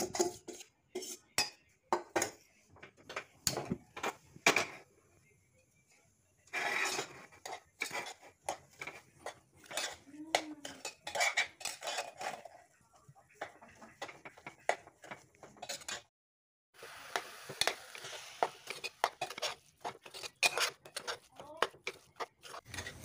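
Grated coconut is dry-roasted in a pressure cooker, with a spatula scraping and clinking against the metal in irregular bursts separated by short quiet gaps.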